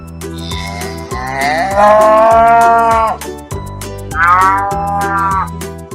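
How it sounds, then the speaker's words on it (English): A cow moos twice, two long, loud lowing calls separated by a short pause, over a steady rhythmic music backing. "This is a cow."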